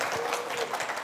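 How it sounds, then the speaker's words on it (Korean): A brief burst of audience clapping at a talk event, a dense patter lasting about a second. "박수 한 번만 주세요."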